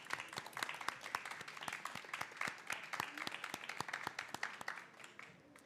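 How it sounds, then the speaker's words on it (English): An audience at a live-streamed AOSIS event claps in a big round of applause for Leo Rogers of Blue Planet Alliance: dense, crisp, close hand claps that fade slightly toward the end. "Big round of applause for Leo Rogers."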